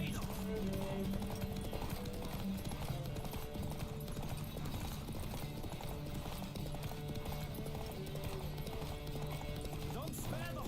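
Rhythmic hoofbeats of a galloping horse in The Witcher 3 run steadily throughout, with music and a voice speaking over them.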